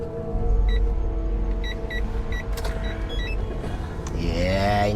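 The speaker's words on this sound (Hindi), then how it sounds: "ये इंजन का साउंड चेक कर रहा है" A 1300 cc Ferrari engine runs at a steady idle, a continuous low hum with faint clicks and beeps over it and a rising whine near the end, with no speech.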